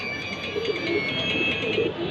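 Steady, overlapping cooing from a crowd of Jabra pigeons, a continuous soft burbling murmur with no pauses.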